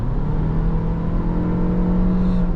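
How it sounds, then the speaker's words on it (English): The hybrid engine of a 2026 Toyota RAV4 drones loudly under acceleration, a steady continuous roar with a low hum running throughout. "The engine itself is a very, very loud under acceleration."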